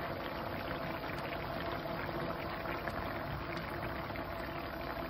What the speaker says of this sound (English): So that's bubbling away nicely.